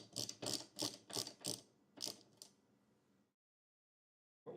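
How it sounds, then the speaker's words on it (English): A hand ratchet loosens the lock nut on a car's wiper arm: about seven quick, close clicking strokes in an uneven rhythm, then silence. "you may have to use the ratchet to get it to come off completely"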